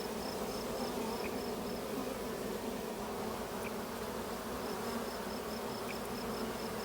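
Honey bees from a colony in a farmhouse eave buzz in a dense, continuous drone, with a few bees flying past close by now and then.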